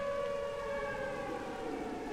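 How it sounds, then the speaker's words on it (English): A tornado warning siren from a Minecraft tornado mod wails as a steady, droning tone, faint and distant and held level for the whole span without voices. "The siren's going off."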